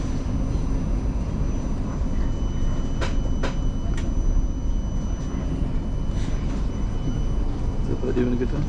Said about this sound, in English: This train is now approaching Chiswick.